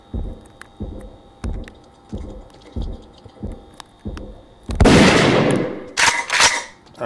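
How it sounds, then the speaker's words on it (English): Gunshots in The Ritual, a horror game set in a demonic school: a loud burst of shots near the end, following a steady series of low, evenly spaced thuds like footsteps. "Alright, shot him once."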